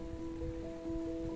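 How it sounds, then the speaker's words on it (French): Rain begins falling outside an open window, a soft, steady patter of drops over a faint hum. "Ah, il commence à pleuvoir, ça y est."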